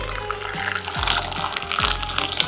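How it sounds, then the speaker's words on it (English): Hot water from a boiled kettle is poured over tomatoes in a heat-resistant bowl, giving a short, close splashing and filling sound without speech. "boil your kettle and just pour hot water on top"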